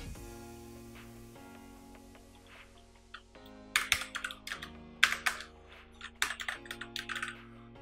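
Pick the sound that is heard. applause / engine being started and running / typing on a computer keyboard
typing on a computer keyboard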